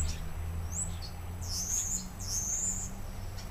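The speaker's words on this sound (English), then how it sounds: "Birds sure are singing this morning." Songbirds chirp on a morning outdoors: a few thin, high, sweeping calls at moderate distance over a steady low background hum, with no voices.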